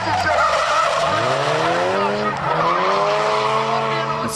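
A drift car sliding through a twister section at Drift Nats round 2, tires squealing loudly and continuously in wavering pitch as the engine wails, near and intense throughout.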